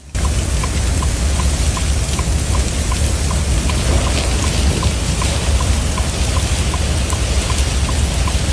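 Heavy rain pours steadily in late April over wildfire country in Georgia, a dense, even wash of noise that holds at full strength throughout, with faint regular ticks and occasional drops standing out.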